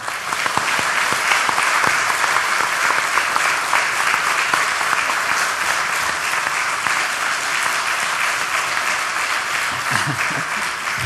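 A church congregation at a revival meeting gives loud, continuous applause to welcome the preacher, a dense steady clapping that fills the room throughout.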